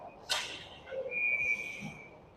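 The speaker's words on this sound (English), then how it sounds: "we get a whistle, so there'll be a face-off" A referee's whistle blows sharply during a youth 18U ice hockey game, a single sustained tone from a moderate distance that stops play, with rink ambience around it.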